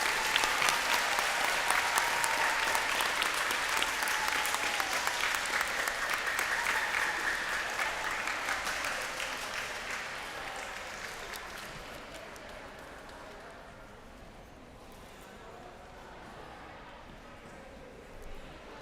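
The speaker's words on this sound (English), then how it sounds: "Let's have a round of applause for all of our graduates." A large audience at a middle school eighth grade graduation applauds loudly, the clapping gradually thinning and fading over many seconds until only scattered claps remain.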